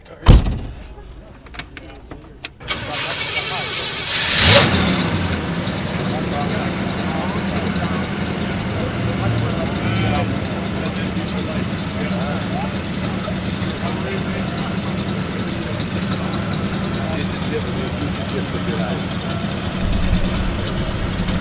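A door thuds, then a 1968 Oldsmobile Cutlass S engine starts and settles into a steady, mild idle with a quiet, original factory stock exhaust note, while people talk nearby.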